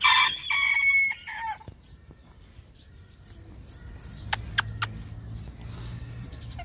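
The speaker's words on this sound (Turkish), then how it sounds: "Ama şöyle şirin tavuklar vardı, onları göstereyim." Sebright ornamental chickens in a cage, with a loud rooster crow at the start, then quieter clucking and a few sharp, brief calls over faint background rumble.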